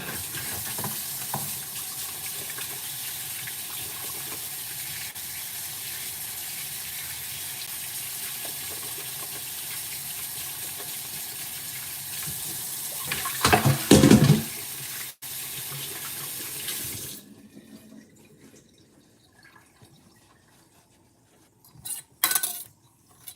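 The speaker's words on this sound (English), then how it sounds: "Let me wash my hand." Tap water runs steadily into a kitchen sink while hands are washed, a close continuous splashing that briefly gushes louder, then stops, followed by a few faint clinks.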